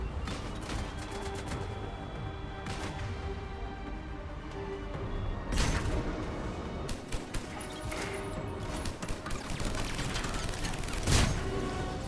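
Grenades and gunfire in a shooter video game, with a quiet ongoing background of scattered shots, then a few sharp, louder blasts and impacts around the middle and near the end, with no talk over them.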